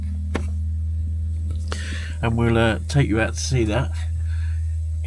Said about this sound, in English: that's the sound you could hear is the generator.